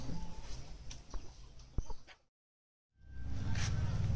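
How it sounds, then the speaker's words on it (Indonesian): Two-week-old chickens clucking at a small poultry farm, a busy flock heard close by in short scattered calls over a constant coop hum, cut by a brief silent gap before the clucking resumes. "kita langsung aja lihat ke ayam yang umur 2 minggu atau"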